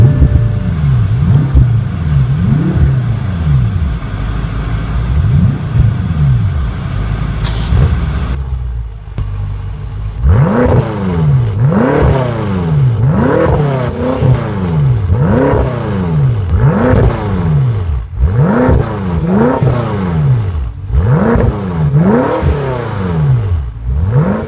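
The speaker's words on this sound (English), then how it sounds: "let's start it up and see how it sounds" A 2014 BMW M5 F10 with a twin-turbocharged engine idles, then after a short lull fires into a series of sharp, loud revs that rise and fall repeatedly, close by and with no talking.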